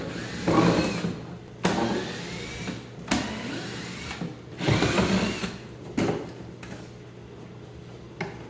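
A power tool backs Phillips screws out of a kitchen hood vent in short bursts of buzzing whine separated by pauses and clicks, close and moderately loud, about half a dozen runs in all.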